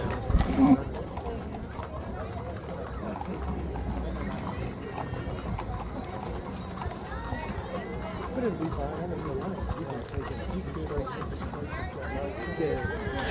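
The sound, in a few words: horses clip-clopping in a Christmas parade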